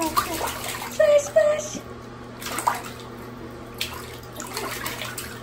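A baby splashes water in a small pink bathtub, giving a few close, irregular splashes and sloshes over a steady background hum, with a voice faintly present.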